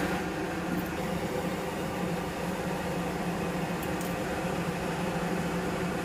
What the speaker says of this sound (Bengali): দিয়ে জল ঝরিয়ে এটা আমি মিক্সিতে পেস্ট করতে দেবো